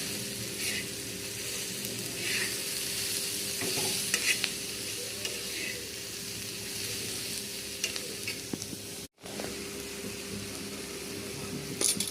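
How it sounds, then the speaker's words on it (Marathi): Steady sizzling of onion sautéing in a pan, with occasional scraping and stirring strokes throughout, close and continuous. "15 मिनिट कांदा एकदम मस्त निम्म्यापेक्षा कमी होईल असं परतून घ्यायचं"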